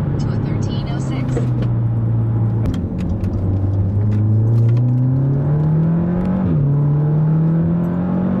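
Engine of a 2017 Audi S3 8V Black Edition with Stage 2 tuning, about 400 bhp, revving hard on the road: a loud, steady drone climbing in pitch with a brief dip and recovery at a shift, under faint road and wind noise.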